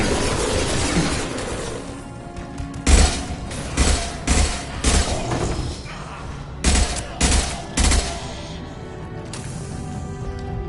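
Gunfire in the Mass Effect Legendary Edition video game: a continuous crackle of distant shots broken by several loud, close bursts of automatic fire and impacts, spaced a second or so apart, with a busy combat background.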